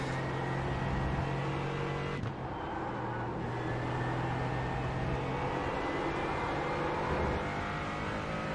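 A racing car engine drones loud and steady in GT4 at Motegi, close and sustained with a brief gear change dip midway, then carrying on at high revs without talk.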